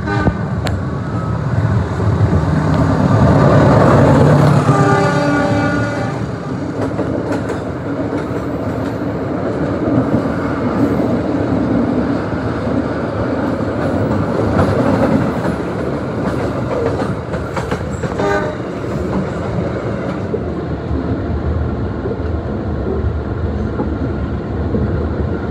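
Sri Tanjung passenger train rolling along the line near Surabaya Kota and Wonokromo, a steady, loud rumble with rhythmic clatter of wagons that swells early on and continues without pause.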